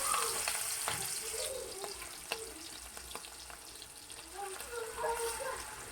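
Mustard seeds frying and crackling in hot oil for a mussel pickle, a steady close sizzle with small pops and stirring scrapes throughout.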